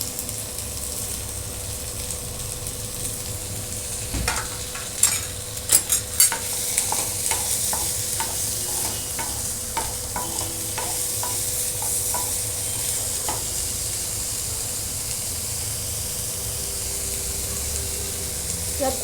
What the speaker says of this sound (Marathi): आता कांदा परतवून घेणार आहे